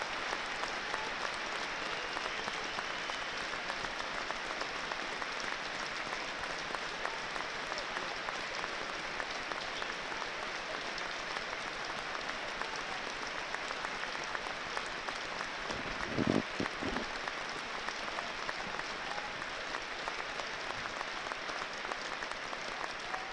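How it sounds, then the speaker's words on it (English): Steady wash of applause from a whole football stadium crowd standing at a Sunderland match, distant and even throughout, with a brief low thump midway. "The whole stadium standing up, applauding that one."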